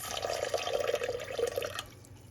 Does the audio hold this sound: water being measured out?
yes